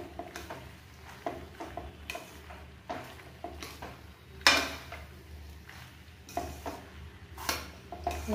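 Macaroni being stirred in a pan on a gas stove, with soft repeated scraping and clinks of a utensil against the pan and a faint sizzle underneath, close by.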